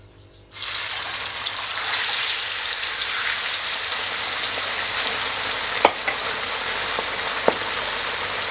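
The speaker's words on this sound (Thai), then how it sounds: "น้ำมันร้อนก็ทอดได้เลยครับ" After a brief quiet moment, a loud, steady sizzle of red tilapia dropping into hot oil in a wok bursts up and keeps crackling, with occasional sharp pops.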